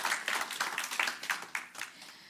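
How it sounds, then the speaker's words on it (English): A small gathering gives a brief round of applause for volunteers at a spiritual center service, light scattered clapping that is fairly faint and close, with no voices over it. "let's just give a little round of applause for all of our volunteers"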